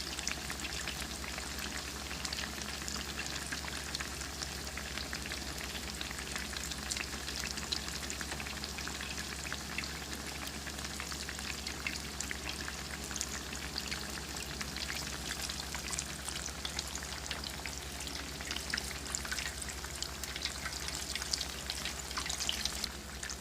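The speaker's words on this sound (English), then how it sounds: "If your tater cakes wander around in the hot oil, it's not a big deal." Potato cakes frying in hot oil, a dense, steady crackling sizzle that continues without a break, close and moderately quiet, with no talk.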